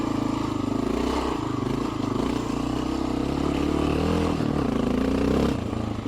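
A Honda XR650L motorcycle riding off road, its engine droning steadily at moderate revs with small pitch rises and dips, plus a light clatter of the bike over rough ground, heard close and continuous with no talking.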